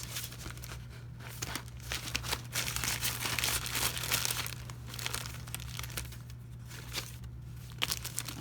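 Paper craft cutouts for junk journals crinkle and rustle as they are handled, soft continuous shuffling with small crisp crackles, close and quiet, no voices.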